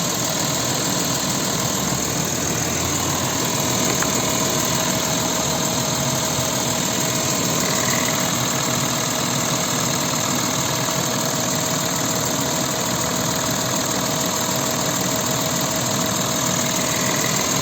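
A 2015 VW Touareg 3.0 TDI diesel engine idles steadily with a low, even rumble and faint knocking texture, continuous and close, with no voices.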